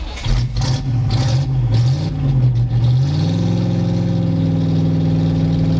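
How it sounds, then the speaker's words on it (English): A DeLorean-based monster truck, built from a wrecked DeLorean, fires up: a rough, loud engine turns over unevenly, then settles into a steady, deep, throbbing idle close by. "this is my DeLorean monster truck, and this is what it sounds like when I fire it up"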